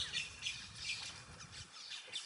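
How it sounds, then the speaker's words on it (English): Birds squawk repeatedly at a moderate distance, a string of harsh, scratchy calls spread across a couple of seconds over faint background noise. "Yeah, the birds."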